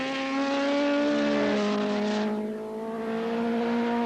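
Superbike motorcycles racing on a track produce a loud, sustained high engine whine that shifts pitch as the machines pass and fades slightly before building again, with no talk.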